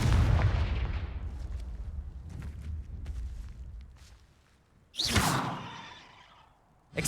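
Confringo blasting spell in the Hogwarts Legacy video game, a deep booming explosion that rumbles and decays over several seconds, followed by a sharp bright whooshing burst, loud and close with no voice.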